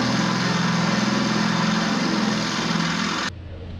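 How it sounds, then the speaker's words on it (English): A drill boring out rivets on jammed boat rigging pulleys, a loud steady high-pitched motor whine that runs continuously and then cuts off abruptly near the end. "These pulleys, it's completely jammed. So I'm having to drill them out."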